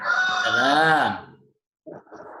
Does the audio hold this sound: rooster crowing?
yes